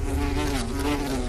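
A bee buzzes in an adventure film, a close, steady droning hum with a strong fundamental and harmonics that waver slightly in pitch for about a second.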